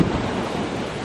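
Strong ocean waves break on a beach at Los Cabos, a continuous broad roar of surf with wind, close and loud for about a second.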